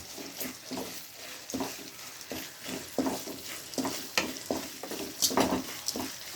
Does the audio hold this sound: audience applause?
no